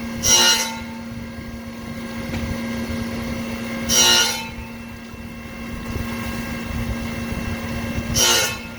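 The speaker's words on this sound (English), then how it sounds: "I'll just manually bring it down more, and until we get a bigger chunk of grinding going on." An MVM LA 500 circular knife grinder runs with coolant, giving a steady mechanical hum, and three bright grinding bursts about four seconds apart swell and fade as the wheel meets the blade.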